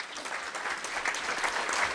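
Audience applause at a gathering honoring Chicago mayor Rahm Emanuel's first year in office, a steady, fairly loud round of clapping that fills the whole moment with no voices over it.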